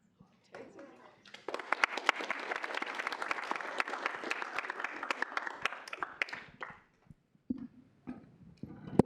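Student senate audience applauds after introductions: a sustained burst of many hands clapping fills most of the stretch, with short quieter patches and voices at the start and end.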